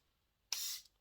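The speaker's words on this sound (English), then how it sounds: "we can just do a spritz of the Airbrush Flawless Setting Spray from Charlotte Tilbury" A quick spritz of Charlotte Tilbury Airbrush Flawless setting spray hisses out close to the mic, followed moments later by the start of a second short burst, with no talking.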